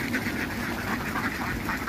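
Khaki Campbell ducks at a duck farm quacking steadily as a noisy flock, moderately close, continuous and overlapping with no voices.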